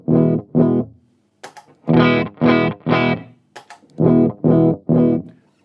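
Electric guitar sent through 100 meters of cable into an amp, strummed chords sounding dull and dark, loud separate hits with short gaps and a couple of brief sharp clicks.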